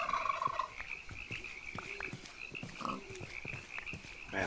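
Turkeys gobble repeatedly in the Minecraft TerraFirmaCraft video game, a series of short throaty calls at moderate distance over a steady ambient hum, with no talking.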